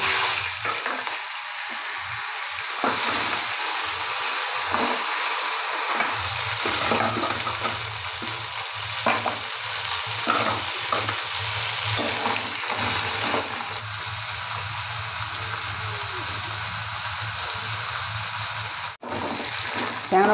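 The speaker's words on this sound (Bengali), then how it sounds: "ট্যাংরাগুলো একটু ভেজে নেবো।" Tangra fish frying in oil in a kadai during a crab and taro cooking session produce a steady, loud, crackling sizzle for a long stretch, with occasional bubbling pops and no speech.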